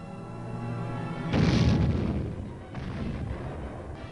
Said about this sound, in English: This group is setting up a recoilless rifle.